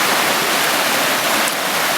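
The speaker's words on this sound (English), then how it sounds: "There's a sweet little creek that crosses right over here." A small creek on a trail near Logging Lake flows with a steady, close, full rush of water and no voices.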